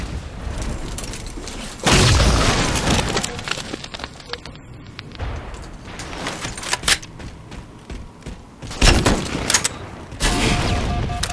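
Rapid gunfire bursts and heavy booms from a Halo 4 multiplayer match, loud and close, with dense firing stretches broken by quieter gaps and occasional thuds.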